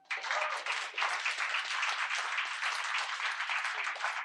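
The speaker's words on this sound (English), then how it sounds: "we can clap about that" Audience at a talk on ecosocialism and the climate crisis bursts into applause, a dense, energetic patter of many hands clapping steadily for several seconds, fairly close and uninterrupted.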